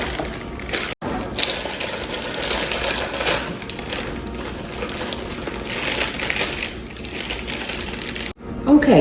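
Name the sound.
can opener opening a can of pumpkin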